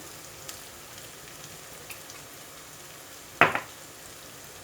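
Onions sautéing in oil until golden brown for dahi aloo curry, a faint steady sizzle with light ticks and one short louder clatter of stirring.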